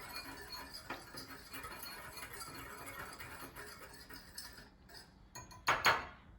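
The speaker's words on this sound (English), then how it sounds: "Give it a quick stir" A spoon stirs a cinnamon mixture in a bowl, soft steady scraping with light clinks of utensil against dish, ending in a couple of sharper knocks.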